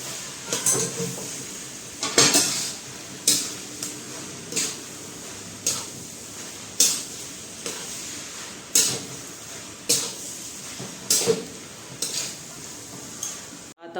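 Mashed potato filling for aloo paratha is mixed in a bowl, with a steady series of sharp utensil knocks and scrapes against the bowl every second or so, no voices.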